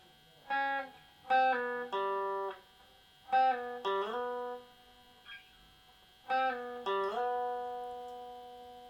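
Guitar playing a melody, slow phrases of clean single notes and slides in short bursts separated by pauses, close and fairly quiet with no talk.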